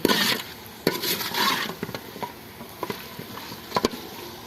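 Spices being stirred and mixed in a cooking pot held with a cloth, with scraping and clinking of a spoon against the metal pot in irregular bursts, close and moderately loud, no talking.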